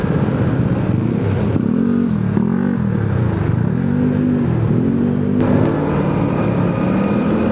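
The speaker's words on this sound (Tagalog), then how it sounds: "Maraming sasakyan ngayon." Heavy rush hour traffic of cars and motorcycles on a Tandang Sora road in the Philippines: a continuous loud engine drone with engines rising and falling in pitch as vehicles creep past close by.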